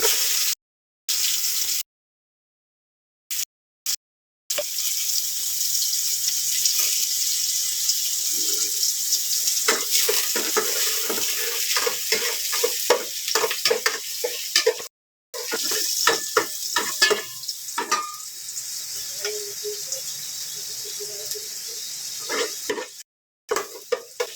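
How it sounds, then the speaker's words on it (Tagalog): Onion and garlic sautéing in a pan for Filipino tinola, a steady hiss of sizzling broken by brief gaps and soft clinks of stirring, close and continuous with no voices. "Gigisa muna natin yung tinola."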